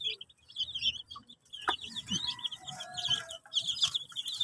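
Mother hen and her young chicks on a home poultry setup, with soft clucks and high chick peeps scattered throughout at close range, alone without talk.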